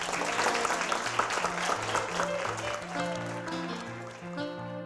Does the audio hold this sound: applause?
yes